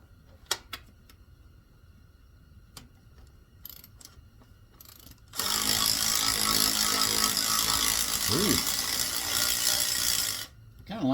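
An older Mac Tools BRS 038 ratchet turns in a fast, steady stream of close metallic clicks for about five seconds, after quiet faint handling noises.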